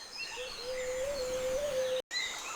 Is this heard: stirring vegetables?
no